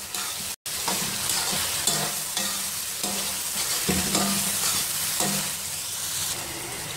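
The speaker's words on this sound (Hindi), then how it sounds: "अब मैं इसमें शामिल करूँगी ये फ्राई किए हुए आलू और इसको करूँगी मैं मिक्स" Fried potatoes stirred into cooked masala in a pot for dahi aloo masala biryani, a continuous close sizzle with repeated scraping and mixing strokes, no voices over it.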